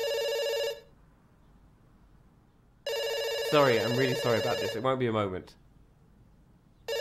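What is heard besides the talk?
telephone ringing in a video game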